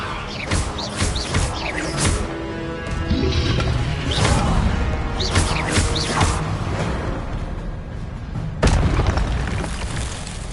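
Incendio fire spell cast in Hogwarts Legacy, a loud burst of booming, crashing flame impacts that roll on densely for several seconds, with another sharp hit near the end.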